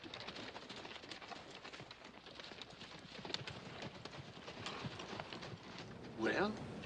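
Horses clop at a walk over rough country ground, a soft, steady hoof rhythm low under a voice and background sounds.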